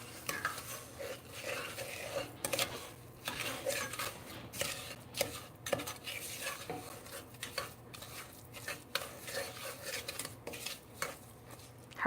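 Butterscotch-cinnamon pie filling is stirred in a pot, a spoon scraping and clinking against the metal in an irregular run of close, fairly quiet knocks, with faint whispery voice sounds between them.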